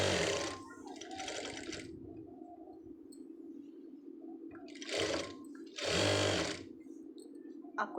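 A sewing machine stitches gathers into fabric while making a dori, running in several close bursts with short pauses between them, alongside a steady low hum.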